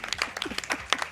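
An audience at a live speedrunning marathon event applauds in a short, scattered burst of clapping that sounds close and busy.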